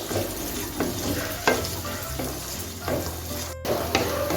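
Green peas tossed with cashews and onion in a hot pan, up close: a steady sizzle broken by scraping and stirring strokes, with no talking.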